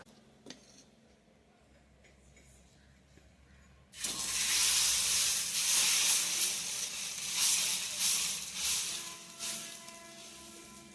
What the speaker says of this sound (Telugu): పెనం మీద చుట్టూ ఆయిల్ వేసుకున్నామండి.